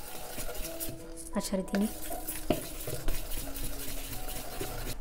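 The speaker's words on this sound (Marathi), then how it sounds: "जे काही मी रमबॉल केकचे चुरा घेतला होता तो थोडा ह्यात मी मिक्स करत आहे" Rum ball cake crumbs are stirred into a cassata mixture with repeated close scraping and tapping of a spoon against a bowl, while someone speaks briefly over it.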